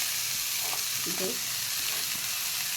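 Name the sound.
chopped onion frying with ginger for sarson ka saag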